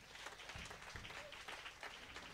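A church congregation claps together in a steady, dense round of applause, moderately distant and even throughout.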